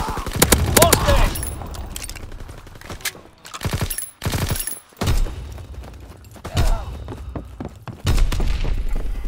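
Rapid bursts of gunfire and explosive thumps pound through a Call of Duty: WWII Domination multiplayer match, loud and close in repeated volleys with short gaps, while radio-style game voices call out over the fighting.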